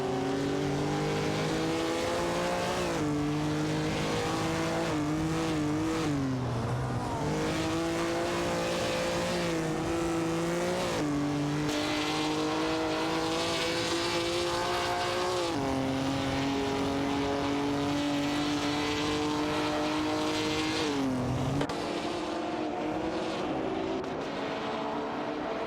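Race car engines in an AI racing video game, sustained high-pitched whining tones that rise and dip with gear changes and overtakes, several cars layered together, loud and continuous without pause.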